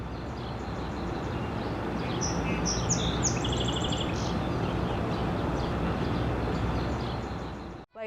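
A few short bird chirps and calls rise faintly over a steady, broad background hiss at Morgana Bluffs Nature Preserve in Cleveland. Most of the chirps cluster in a brief stretch, and the hiss cuts off at the end.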